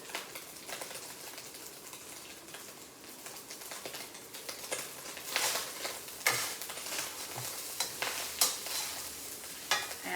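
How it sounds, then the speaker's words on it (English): Ground meat and onion browning in a pan give a steady soft sizzle and crackle, with occasional louder stirring scrapes and pops toward the end. "Browning the meat is going to take like 5 to 7 minutes."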